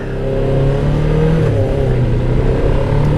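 Engine of a Kawasaki Ninja EX500 motorcycle running on a cold day, a loud, close, steady drone with a slight rise in revs, no talking.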